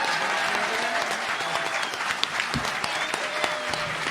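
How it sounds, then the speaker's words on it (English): Steady applause from a convention audience for voice actors, dense and sustained clapping filling the whole stretch with no voices standing out. "let's give them a round of applause."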